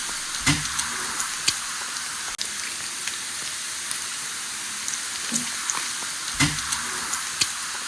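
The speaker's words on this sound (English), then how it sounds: "Hear that sizzle." Steady sizzling and popping of bacon frying in olive oil in a skillet, with occasional louder crackles and spatters breaking through the hiss.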